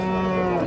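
A cow moos once, a short, loud, close bellow at a busy cattle market selling small Friesian and crossbred bull calves.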